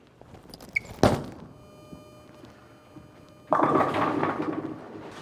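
Bowling ball, a Roto Grip Rockstar Amped, released with a sharp thud, rolling quietly down the lane, then a loud clattering crash into the pins.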